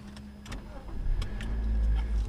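A car engine cranks and catches after the dashboard has been running on battery power, then settles into a steady idle with a low rumble, close and moderately loud.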